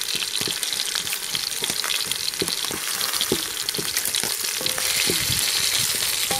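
Crushed garlic with beef bouillon cubes and food colouring frying in a pan for coloured rice, a loud continuous sizzle with crackling pops and occasional stirring scrapes throughout.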